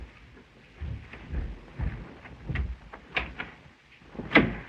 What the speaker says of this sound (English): What's that? The door.